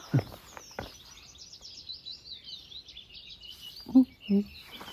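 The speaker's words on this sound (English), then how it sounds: "You can hear the cuckoo as well." A faint, distant cuckoo gives its two-note call near the end, with thin high birdsong twittering steadily in the background.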